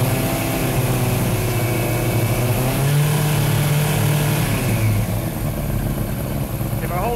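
A 1998 Yamaha R1 motorcycle engine idles steadily as it warms up after starting, a close, continuous burble with a slight shift in pitch partway through.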